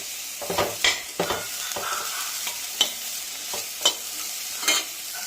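Grated coconut and salt are stirred into a frying pan, a soft sizzle under repeated scraping strokes of a spoon, close and fairly loud, with no talking.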